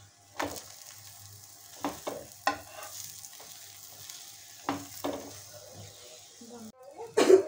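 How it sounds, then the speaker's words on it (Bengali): Coriander and potato paratha frying in oil on a pan, a soft steady sizzle with a few sharp scraping and pressing sounds spaced out, ending in a louder burst of crackling. "এবার আমি তেল দিলাম, তেল দিয়ে দুই দিকটা সেঁকে নেবো ভালো করে।"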